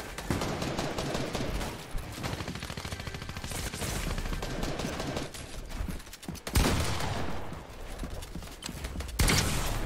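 Rapid gunfire from a game fight with pump shotgun shots in the mix: dense bursts of shots and clattering impacts come loud and close, with sharp blasts near the middle and the end.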